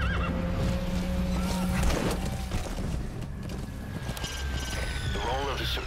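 Metal Gear Solid 5: The Phantom Pain game sounds with a horse's neigh over a dense mix of mechanical rumble, tones and effects, with some voice mixed in, loud and busy throughout.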